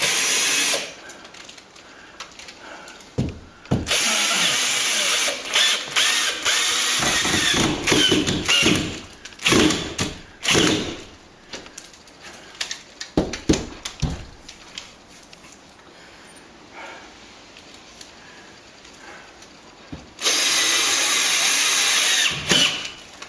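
Power drill driving screws through loose plasterboard ceiling sheets, several bursts of close, loud whirring separated by short pauses and handling noise, the last long run ending the sequence.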